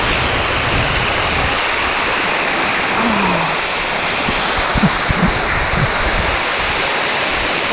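A waterfall in Kanchanaburi, Thailand, approached up close, fills the air with a loud, steady broadband roar of falling water, with a few faint knocks and no speech.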